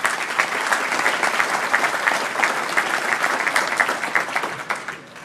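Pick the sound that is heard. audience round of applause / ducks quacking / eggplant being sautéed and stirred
audience round of applause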